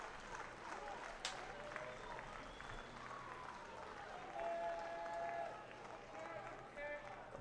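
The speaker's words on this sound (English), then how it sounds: "Slow clap echoing around the ballpark." Slow, scattered clapping echoes around a ballpark during a Cape Cod League baseball game at Polar Park, faint and distant beneath a close commentator's voice and crowd murmur.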